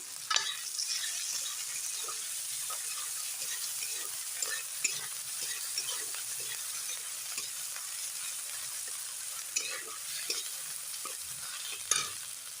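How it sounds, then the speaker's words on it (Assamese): Chopped onion, ginger and garlic crackle in oil as they are stirred, giving a steady hiss broken by scattered pops and scraping strokes, with no talking. "পিঁয়াজ আৰু আদা ৰহুনখিনি ভাজি ল'ম ভালকৈ।"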